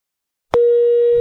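A telephone busy tone starts abruptly after a click as a call is cut off, a single steady electronic beep sounding loud and clear with no talk.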